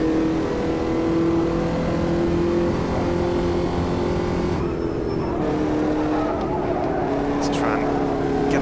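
Race car engine in the Automobilista 2 racing game, holding a steady loud drone with shifting pitch, revving and changing through the run, with a voice talking over it.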